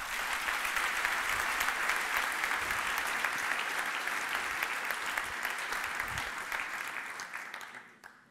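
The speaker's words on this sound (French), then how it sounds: "Accueillons par nos applaudissements Laure Nemé." A conference keynote audience applauds to welcome a speaker, a full, even round of many hands clapping at moderate volume that gradually fades out near the end, with no speech.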